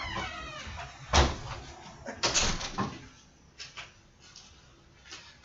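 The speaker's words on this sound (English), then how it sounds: "somebody is knocking on the door" Someone knocks on a door indoors, giving a few scattered dull thumps and raps at moderate distance, loudest near the start, with faint room noise between the hits.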